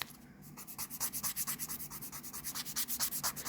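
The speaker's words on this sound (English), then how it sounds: "the more of the length of the nail file that you use doing this" A nail file rubs back and forth over gel polish on a fingernail, making quick, even, close scratching strokes in a steady rhythm that is fairly faint.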